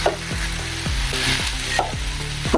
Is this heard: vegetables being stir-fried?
yes